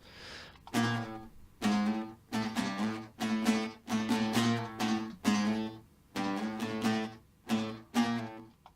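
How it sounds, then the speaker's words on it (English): Plucked nylon-string guitars play a steady rhythmic pattern, each warm note ringing briefly and decaying before the next, with no voices. "Let's skip over to the nylon string guitars."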